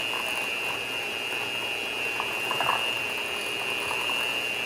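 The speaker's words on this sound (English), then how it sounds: "I do like using a mixer now instead of just trying to mix it in with a fork" An electric mixer whips deviled egg filling in a kitchen, giving a steady high motor whine with faint rattling and clicking from the beaters in the bowl, running without pause.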